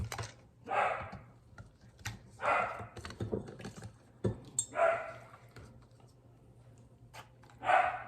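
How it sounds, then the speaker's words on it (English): Puppies bark and yip in short bursts at intervals while playing, fairly close, over a low steady hum. "Dogs in the background, I apologize. Those are our puppies."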